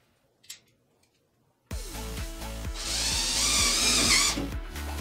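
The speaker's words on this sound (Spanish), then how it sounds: "basta con que utilices tu atornillador eléctrico o bien un taladro pero con una punta tipo Phillips para poderlos introducir sin ningún problema en tus perfiles" An electric screwdriver fitted with a Phillips bit drives self-drilling screws into metal framing profiles, starting abruptly after a quiet moment with a near, steady whirring whine that grinds harder midway, with a faint knock beforehand.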